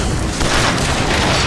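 A rocket turret firing in the Bioshock Infinite video game produces a loud, continuous roaring boom that fills the whole moment, close and heavy with no break.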